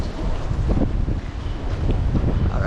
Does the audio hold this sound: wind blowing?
yes